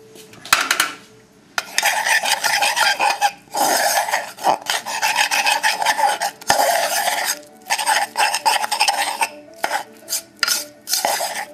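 A spoon scrapes and rasps vigorously around a pot as flour is worked into a chicken and potato casserole sauce. Bursts of stirring come close and loud, separated by brief pauses.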